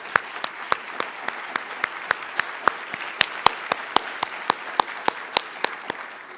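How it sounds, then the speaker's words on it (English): Audience applause at an adult education awards event honoring a program administrator, heard as sparse, evenly spaced individual claps, moderately close and steady, with no talking. "Stand up so we can give you a big round of applause."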